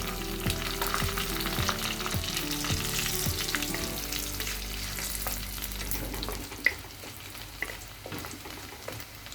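Dried red chillies, curry leaves and garlic sizzle in hot oil, a dense crackling fry that is stirred with a few light scrapes and clinks near the pan, settling to a softer spatter toward the end.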